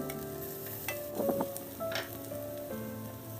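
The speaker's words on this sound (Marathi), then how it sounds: "मीडियम गॅस फ्लेमवर 2 मिनिट याला छान परतून घेऊ।" Mashed potatoes with salt are sautéed in a pan over a medium gas flame, producing a steady soft sizzle broken by a few louder stirring scrapes and squelches, with nobody talking.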